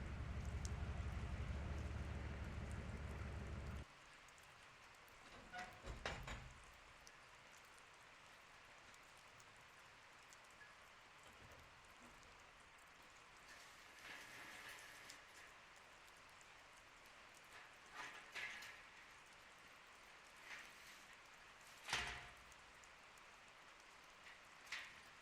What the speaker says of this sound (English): We're gonna use the rain to our advantage because the sheep don't like to be out in the rain.